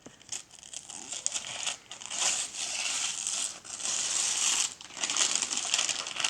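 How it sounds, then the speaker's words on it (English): Crinkly Christmas wrapping paper torn and crumpled off a Dr. Seuss book, How the Grinch Stole Christmas, in close, steady rustling bursts with brief pauses, no talking. "let's unwrap it."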